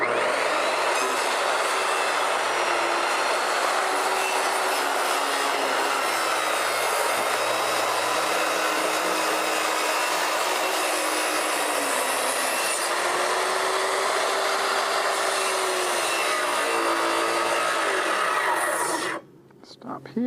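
A power saw cuts along the outside edge of a wooden deck built over a lake, its whine loud and continuous for most of the stretch with pitch shifts as the blade bites, then cutting out abruptly near the end.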